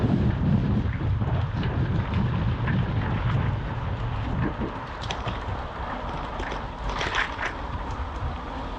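Strong wind roars across the microphone of a mountain bike rider on a long cross-country ride near a forest, a loud continuous rumbling buffet that eases slightly partway through.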